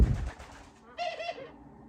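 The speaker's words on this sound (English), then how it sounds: "I have a bird in the house who likes to sing" Inside a house, a pet bird gives a few cooing, warbling calls, a short burst followed by a brief pause and another, fairly close and moderately loud.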